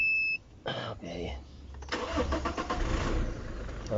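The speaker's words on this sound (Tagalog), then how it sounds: "I-start ko yung sasakyan." A car engine cranks briefly and catches, settling into a steady mid-pitched running idle close by, with a voice talking just before the start.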